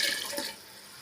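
Water pours into a cooking pot for mutton biryani in a short, bright splashing burst that fades to a quiet trickle after about half a second.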